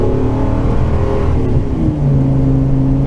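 A Ford Econoline van engine pulls hard up a freeway on-ramp, its steady drone rising in pitch as it builds speed, loud and close from inside the cab with no talk.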